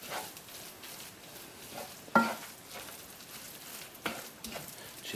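Vegetables being stirred through dark soy sauce in a frying pan, a soft steady sizzle with scraping and a few sharper knocks of the utensil against the pan.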